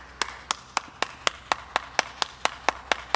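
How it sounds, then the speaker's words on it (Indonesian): Clapping honoring a vocational education director, heard as a single steady rhythm of about thirteen crisp, evenly spaced claps, fairly close and alone with no voices. "boleh kita berikan tepuk tangan dong nih untuk Dirjen Vokasi."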